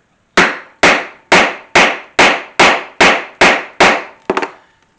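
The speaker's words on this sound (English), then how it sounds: "I just kind of rotate that punch a little bit as I'm hammering on it" Nine evenly spaced, sharp hammer blows drive a 5/16 inch hole punch into a leather guitar strap, each a loud crack with a short decay, ending in a quick rattling double tap.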